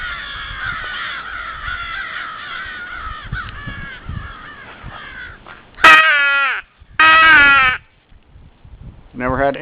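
A flock of crows caws above a house, answering a Primos Power Crow call, with steady distant cawing that gives way to loud, close bursts near the end and someone talking at times.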